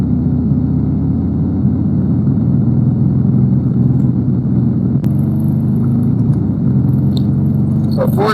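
Harley-Davidson Iron 883 motorcycle engine while riding at around 3,000 rpm in gear, a steady, loud, low rumble that holds throughout, with wind noise over the top and no talking.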